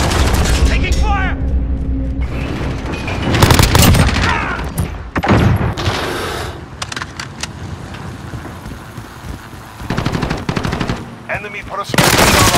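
Automatic and single gunshots from a Modern Warfare shooter match ring out in loud bursts and crackling volleys, with booms and mechanical clatter, over game voice callouts.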